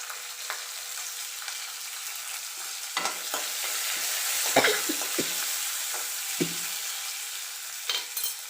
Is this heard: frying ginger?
yes